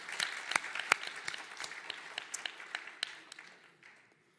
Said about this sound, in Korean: 큰 감사와 환송의 박수를 드리겠습니다